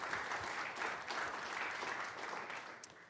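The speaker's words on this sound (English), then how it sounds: "Let's give them a round of applause so we can get our meeting started" Audience applause in a county board meeting room, a steady spatter of hand clapping from a modest crowd, moderately loud and continuous for a few seconds without talk.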